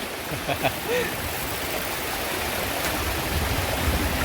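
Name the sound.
strong river current flowing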